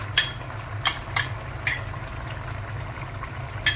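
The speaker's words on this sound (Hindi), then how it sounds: "तो अभी मैं इसमें शामिल करूँगा बटर और घी।" Butter and desi ghee hitting a hot karahi, giving a steady low sizzle with a few sharp crackling pops scattered throughout, fairly quiet and with no talking.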